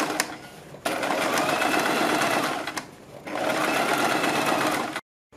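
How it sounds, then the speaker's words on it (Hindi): A sewing machine stitches around a kurti neckline along the buckram edge, running in steady bursts with a short pause near one second and another pause near three seconds, then stopping abruptly. "बीच में सिलाई लगाने के बाद हम बुकरम के बिल्कुल बराबर में पूरे गले के ऊपर सिलाई लगाएंगे।"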